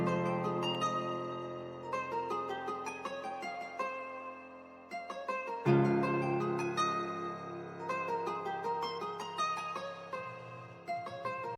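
A guitar beat is layered with low Yamaha Grand Piano bass notes an octave below. Plucked guitar notes repeat in a steady pattern over deep sustained bass, and the texture thickens after a short break midway. No voices.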